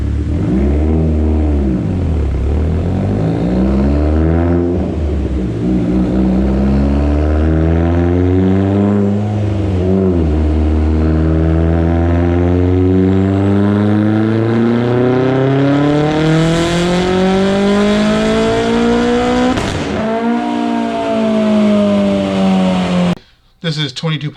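A turbocharged Mitsubishi Evo X, fitted with a GTX3576 turbo, 1200cc injectors, Kelford cams and flex fuel, pulls hard at 22 psi of boost on the street, its engine note climbing loud and steady through long revving runs with brief gear-change dips.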